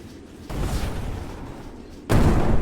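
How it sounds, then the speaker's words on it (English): Explosions go off in the action game Dolls Nest, two sudden loud booms, the second stronger, each leaving a dense rumbling wash that lingers until the next. "As you can see, explosions do affect these enemies from behind"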